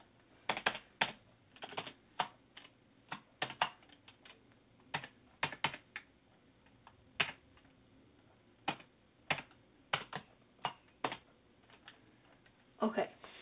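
Fingers tap on a computer keyboard in uneven bursts of close, crisp keystrokes against a quiet room, with short pauses between groups of presses.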